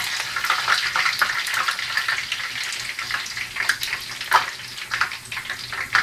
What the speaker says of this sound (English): While we are here at the frying pan full of insanely hot oil, I will just put the bunuelo in real careful